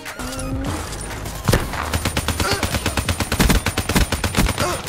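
Rapid automatic gunfire in the shooter game Black Ops III, a dense string of close, loud shots following a brief electronic tone and a single sharp blast, with no talk.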